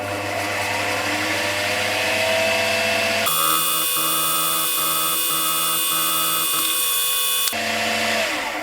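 End mill cutting metal while making lathe dogs, a steady close machine whine with strong tonal harmonics, shifting to a brighter, harsher cutting tone in the middle before settling back.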